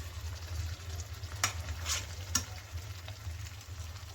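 Ground masala being stirred into simmering egg gravy in a pan, with a soft low bubbling and a few quick scraping stirs of a spoon, fairly faint and close.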